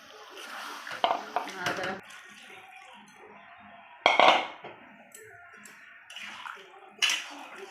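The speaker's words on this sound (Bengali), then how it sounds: "একটু জল দিয়ে দেবো এখন, দিয়ে আবার একটু ঢাকা দেবো" Water poured into a pan of chicken kosha, then a lid set on with a clink of metal, in a home kitchen; a few bright splashing and clattering bursts between quieter stretches, while a person talks.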